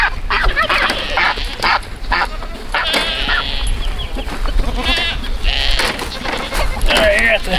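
A goat on a farm bleats repeatedly in loud, wavering calls, mixed with a puppy's barks and people talking nearby.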